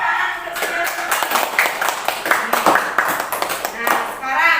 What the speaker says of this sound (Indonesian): Kasih tepuk tangan untuk Suryastuti